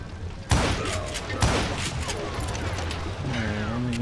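Gunfire in the Western shooter Call of Juarez: Gunslinger, with two loud, sharp shots about a second apart followed by a sustained noisy rumble and ringing game effects.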